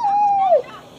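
A dog gives a single close, loud whimper: a high, drawn-out whine that slides downward and fades within a second.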